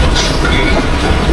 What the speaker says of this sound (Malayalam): നമ്മളെ മുംബൈയിലെ ട്രെയിൻ നോർമൽ ജനറൽ ട്രെയിനാണ്